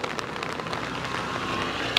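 Steady rain falls outdoors during a walk, a dense, even hiss of drops lasting throughout with no voices.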